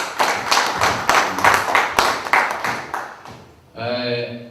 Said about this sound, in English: they deserve really a round of big applause on your behalf